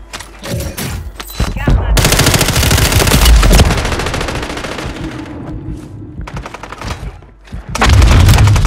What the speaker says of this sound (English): Small caliber rounds here.